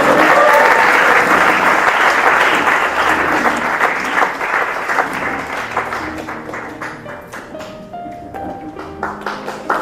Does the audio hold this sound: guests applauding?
yes